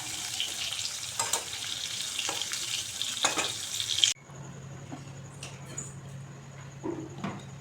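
A pan of curry bubbling and sizzling on the stove, a steady crackling fry with occasional stirring scrapes, then a softer simmering hiss with a low hum after a cut partway through.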